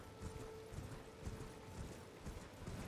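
Rapid clip-clopping of a horse's hooves galloping in the Elden Ring video game, steady and rhythmic under faint mechanical game ambience, with no talk.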